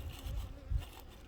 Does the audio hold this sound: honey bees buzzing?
yes